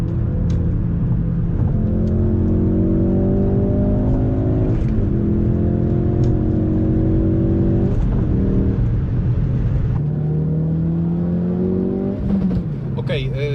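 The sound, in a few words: Ford Focus RS engine revving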